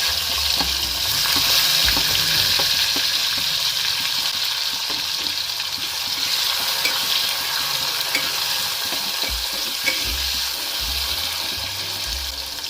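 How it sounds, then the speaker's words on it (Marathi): Finely chopped tomato sizzling in hot oil with cumin, mustard seeds and curry leaves in a clay pot, giving a loud, continuous frying hiss with occasional stirring scrapes and no talking. "आपण एक मोठा टोमॅटो कट केलेला बारीक, तो पण याच्यामध्ये टाकायचा।"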